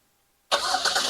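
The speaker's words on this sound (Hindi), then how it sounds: "उसके बाद जो है वो गाड़ी स्टार्ट हो जाएगी" A 2023 Hyundai i20 facelift iVT starts by remote start, cranking up abruptly after a moment of silence and settling at once into a loud, steady close-up idle.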